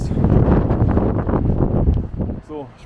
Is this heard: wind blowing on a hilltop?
yes